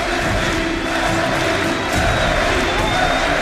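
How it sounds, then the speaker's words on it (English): Large esports arena crowd at a League of Legends All Star Finals match, roaring and cheering in a steady, dense wash of noise throughout. "We hear the crowds here."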